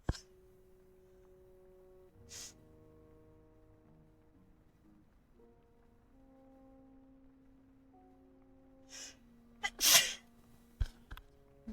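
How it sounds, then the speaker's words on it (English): A person sneezes again and again, several sharp bursts spread across the stretch with quiet gaps between them, one loud one near the end, set over a faint steady tone. "I am sneezing still."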